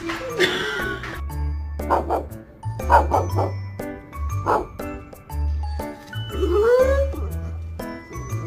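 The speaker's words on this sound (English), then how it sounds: "What the dog doing?" A dog in a home setting gives short barks and yips at intervals, fairly close and moderately loud, with a low hum running beneath and occasional human voices mixed in.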